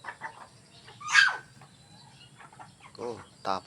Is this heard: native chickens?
yes